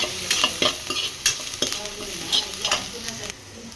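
Food sizzles steadily in a pan for egg palak paneer masala, with repeated sharp scrapes and taps of a spoon stirring through the close, continuous frying hiss.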